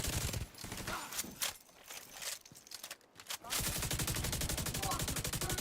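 Gunfire rattles in The Division 2: scattered shots and bursts at first, then a sustained rapid automatic stream of loud, close rounds after a brief lull.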